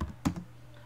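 A few quick keystrokes tap on a computer keyboard while a name is typed, soft close clicks clustered in a short burst, then quiet.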